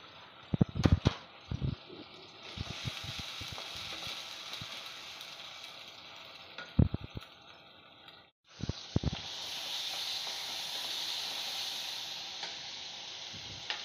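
Tomatoes and salt hitting hot oil in a frying pan while cooking potato, brinjal and small shrimp bhaji, a steady soft sizzle broken by clattering spoon taps, cutting out briefly before a louder hiss returns.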